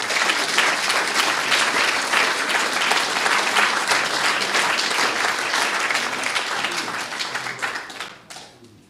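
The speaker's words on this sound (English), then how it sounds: "please, another round of applause" An audience at an oration event applauds loudly and steadily, a dense wash of clapping hands that holds for most of the time and then fades away toward the end.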